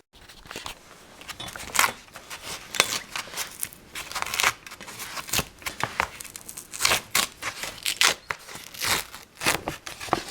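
Old fabric being peeled and torn off a third-generation F-body ASC convertible top, a string of sharp ripping and crinkling bursts in quick, uneven succession, close by.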